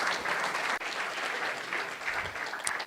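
Dense, steady applause from a hackathon audience at a women in tech finals event, a continuous wash of many hands clapping at moderate loudness.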